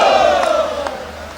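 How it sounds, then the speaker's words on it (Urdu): A large outdoor crowd at a Pakistan People's Party election rally in cold weather roars a chanted slogan, loud and sustained with rising shouts, a dense wall of voices that eases slightly toward the end. "نعرے بھٹو"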